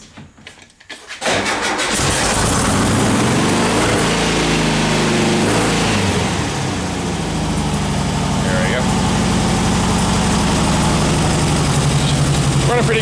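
An old trike's cold engine cranks, catches and fires up, then settles into a steady, loud running idle close by, with someone talking over it.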